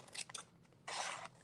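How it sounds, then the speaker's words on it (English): Scissors trim collage paper in a few close, sharp snips, ending in a longer sustained slicing cut. "I'm just going to trim this."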